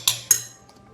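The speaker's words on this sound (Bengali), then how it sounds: "যেমন আমি আরেক চামচ মিউনিস দেব।" A spoon clinks twice against a bowl while mayonnaise is added to a corn dish, two sharp close metallic taps followed by a faint ring and quiet.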